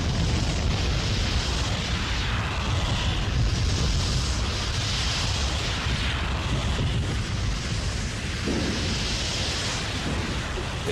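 A Costa Rican volcano erupts with rolling, thunder-like explosions that hurl stones, ash and gas, heard as a dense, continuous roar with deep booming rumbles throughout.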